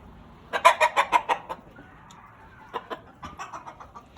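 Large fowl Mottled Chocolate Houdan hens clucking close by, first a quick rhythmic burst of about eight loud clucks, then a pause and a second, quieter run of clucks, with no talk.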